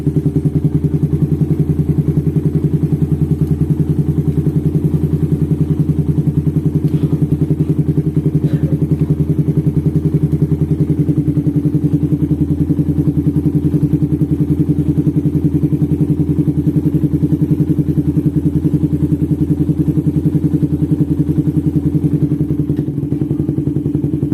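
A tuned-up Suzuki Satria FU 155cc motorcycle with a 64mm oversize piston, still running in, idles steadily and loudly nearby in a smooth, even low throb with faint ticking, no one speaking.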